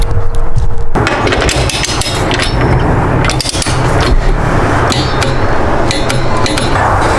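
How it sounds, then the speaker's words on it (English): Close, loud metallic clatter and ratcheting clicks as a torque wrench tightens a strut brace bolt on a BMW G80 M3 in a garage, with irregular knocks and rattles running throughout. "So I'm going to tighten this one down now, torque it."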